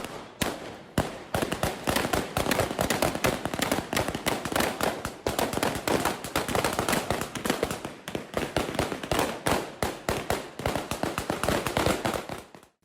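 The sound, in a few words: gunfire, Taliban fighters firing into the air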